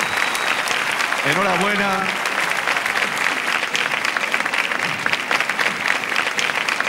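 Sustained applause from an awards ceremony audience, steady dense clapping throughout, with a voice speaking briefly over it.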